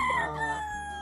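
A Timberlane hatch gamefowl rooster, from a Gilmore hatch line, crows close by in one loud, drawn-out call that slides down in pitch, with low farm background beneath.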